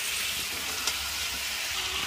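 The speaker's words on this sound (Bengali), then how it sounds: "এইভাবে আমি মাংসটাকে 10 মিনিট ভালো করে কষিয়ে নেব" Chicken frying with spices in a pan for Afghani chicken, a continuous even hissing sizzle with one faint clack of a spoon.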